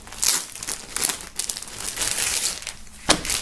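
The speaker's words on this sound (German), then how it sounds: "nachdem hier diverse Sachen noch in Folie sind, werden wir die hier mal rausholen" Crinkly plastic foil is pulled and peeled off items from a barber supply box, a close, continuous crackling and rustling with a sharp crunch near the end.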